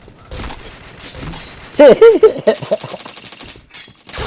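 Dense bursts of video game gunfire crackle loudly in rapid, rattling volleys, with a player's voice breaking in briefly over the shooting.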